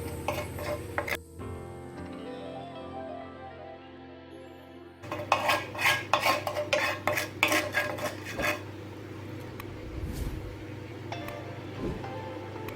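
Spices and salt (chilli powder, turmeric) stirred into a South Indian egg roast, heard as a quick burst of spoon scraping and clinking against a metal pan, close and fairly loud, with quieter kitchen sounds before and after and no talk.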